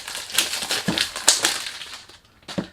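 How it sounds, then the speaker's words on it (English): A cardboard perfume box for Armaf Club de Nuit Intense Man Pure Parfum is handled during unboxing, with close crinkling, rustling and tapping in irregular bursts that ease off near the end. "Sorry about the noise, you can't do anything about it when you do unboxing."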